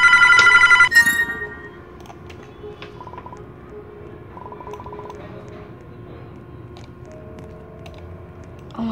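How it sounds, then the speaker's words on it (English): A loud electronic phone ring in the Roblox game Airplane 2 opens the clip for about a second, then quieter beeping tones and a low background hum follow. "The phone is ringing."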